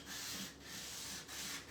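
A round wooden piece for DIY home decor is sanded by hand in close, steady back-and-forth rubbing strokes, three passes with brief pauses between.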